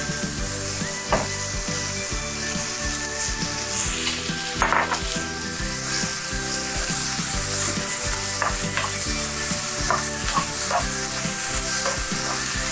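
Mushrooms and broccoli sizzle steadily in a hot pan for a low-carb keto salad, with a continuous close frying hiss and occasional scraping stirs of a utensil, no talking.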